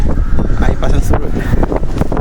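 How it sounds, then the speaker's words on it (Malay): Strong wind by the sea at Sekinchan buffets the microphone in loud, rough gusts, with a person speaking over the roaring wind throughout. "Kau angin ni kuat."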